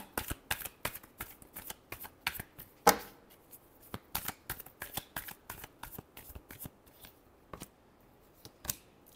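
Tarot cards are shuffled by hand in a quick series of crisp, papery riffles and slaps, near and fairly loud, with short pauses between bursts and no talking.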